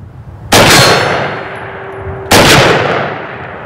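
Two loud pistol shots, spaced about two seconds apart, each striking a steel popper target with a sharp metallic clang and a ringing tone that fades slowly, heard clearly with no voices.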